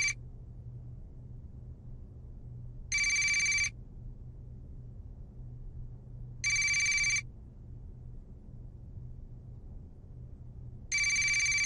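A mobile phone rings in bursts of an electronic ringtone, each lasting under a second and repeating about every four seconds, loud over a low steady background hum.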